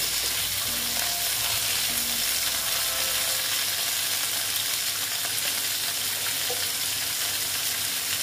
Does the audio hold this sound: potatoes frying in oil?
yes